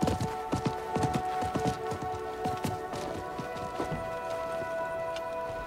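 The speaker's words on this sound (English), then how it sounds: "I think that was the merchant's horse." Horse hooves in the Diablo 4 video game clip-clop in a steady rhythm, close and clear, over a low sustained musical tone, with no one speaking.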